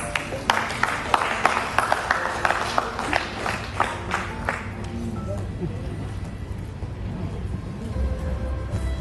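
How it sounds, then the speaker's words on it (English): Audience applause at an early childhood awards ceremony in Dubai, a burst of dense clapping that fills the room for about five seconds, then fades into quieter hall noise. "Welcoming with a warm round of applause."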